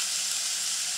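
Cumin seeds spluttering in hot oil for an aloo stuffed paratha, a close, bright and steady hiss of frying with fine crackle and no pauses.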